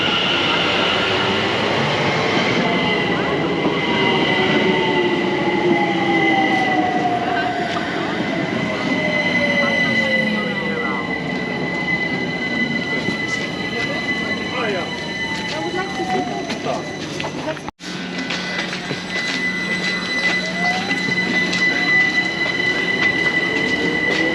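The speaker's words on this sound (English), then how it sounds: "Oh, that train is 378." A London Overground class 378 electric train passes close by, a loud continuous rolling rumble with sustained high wheel squeals and whining tones, briefly cutting out mid-way before the run carries on.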